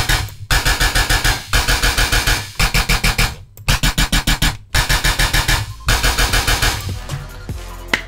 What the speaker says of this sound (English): have you guys ever wondered how to make a gun sound like this?